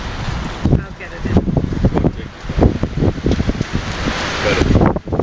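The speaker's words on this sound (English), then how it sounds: "It's too windy." Strong gusts of wind buffet the microphone in loud, rumbling bursts, continuous and rough with brief lulls between blasts.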